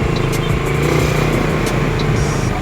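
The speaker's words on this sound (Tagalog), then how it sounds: "At traffic na." Night traffic on a congested street in Tondo, Manila: a steady, loud drone of nearby car and motorcycle engines with a few short horn-like tones, no voices.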